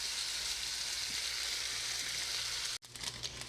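Jjajang sauce made from ramen soup powder stir-fries fast over high heat in a pan, a steady loud sizzle that cuts out abruptly and resumes with busier crackling.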